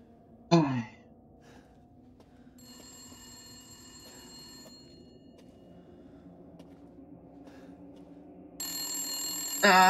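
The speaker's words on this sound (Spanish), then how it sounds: "Va a sonar el teléfono cuando nos aleje." A telephone rings in Resident Evil Village, a repeated electronic ringing tone heard in bursts over quiet ambient sound, with a brief gasp near the start and a louder swell at the end.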